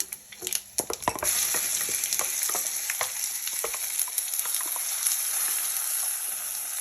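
Ground red chutney sizzles hard in hot oil in a pan, a loud steady hiss with sharp spoon scrapes and clinks near the start before the frying settles into a continuous crackle.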